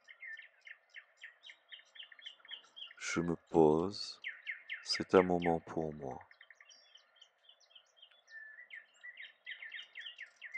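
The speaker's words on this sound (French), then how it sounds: "les oiseaux qui sont derrière cet audio" Small birds chirp and tweet steadily in the background throughout, with a calm voice speaking softly over them in the middle.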